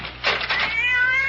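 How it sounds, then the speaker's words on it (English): A cat gives a single close, loud meow that rises and then trails off into a thin wavering whine. "that damn cat!"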